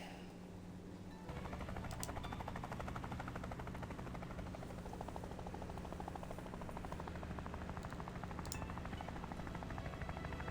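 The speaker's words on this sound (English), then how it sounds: "Let's use the helicopter." A helicopter in the video game Craftopia drones steadily after a short quieter start, a continuous rotor hum and whine that stays loud and even throughout, with no talking.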